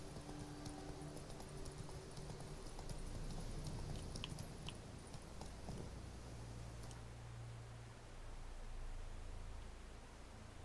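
Roach the horse galloping in The Witcher 3, a steady clip-clop of hooves under a broad wash of game ambience and wind, fairly even in level throughout with a shift in the background partway through.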